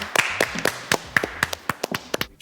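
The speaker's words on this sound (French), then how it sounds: "C'est fini, on l'applaudit." Applause for a contestant on a French TV quiz show: a small group claps in a sparse, uneven burst of a dozen or so distinct, close hand claps over about two seconds.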